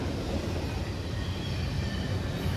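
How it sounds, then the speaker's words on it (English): A loud train rumbles past up close, a dense, unbroken roar of wheels and cars filling the whole stretch without letup. "I'm trying to talk to him over this damn train"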